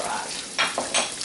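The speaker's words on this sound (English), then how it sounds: "I'm browning my meat here and my onions" Meat and onions browning in a pan make a continuous close sizzle, broken by two or three short scraping stirs of a utensil.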